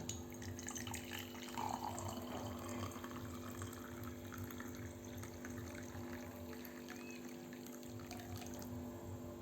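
A soft, continuous stream of hot water pours steadily into a magic mug, faint and even, with no voices.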